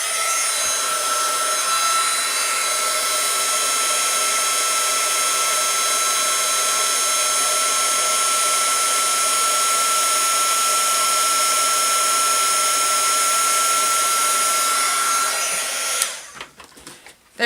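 Heat embossing tool running steadily on a card, melting embossing powder during spring and Easter papercrafting: a continuous loud blowing whir with a high hum that holds for about sixteen seconds, then cuts off abruptly.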